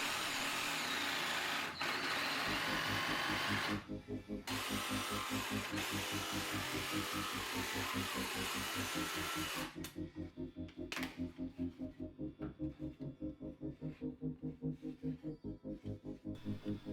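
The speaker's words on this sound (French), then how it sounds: "Avec la scie sauteuse, j'ai découpé les visages." A jigsaw cuts through pallet wood, carving out face shapes for a Jack-O-Lantern; the saw buzzes steadily and loudly, pausing briefly and then resuming with a pulsing, rhythmic chatter as the blade works.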